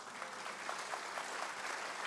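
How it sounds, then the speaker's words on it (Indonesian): A church congregation claps steadily and fairly densely for a couple of seconds during a worship service, with no voices rising above the applause. "tepuk tangan lebih keras lagi"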